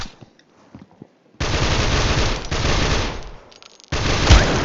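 Bursts of rapid video game gunfire, first scattered sharp shots, then long loud sustained volleys broken by a brief pause.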